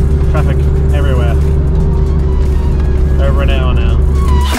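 Cars passing on a busy road near Cabarita Beach, heard from inside a car with a steady engine hum and droning tones, while people talk over it.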